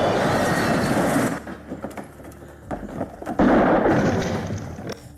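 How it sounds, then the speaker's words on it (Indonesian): A dynamite explosion in a Western-style film, with a loud blast and rumble, then scattered cracks and debris impacts, followed by a second loud roaring burst. "The Stranger yang telah mengantisipasi percobaan pembunuhan itu telah menyiapkan dinamit dan langsung meledakkannya."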